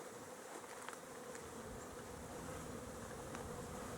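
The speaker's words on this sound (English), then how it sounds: "But it's definitely a lot of bees." A large swarm of bees buzzes in a continuous, even drone, steady and moderately distant, with no voices or other sounds over it.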